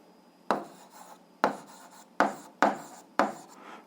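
Writing by hand on paper, heard as five distinct scratchy pen strokes in an irregular rhythm, close and fairly quiet, with near silence between them.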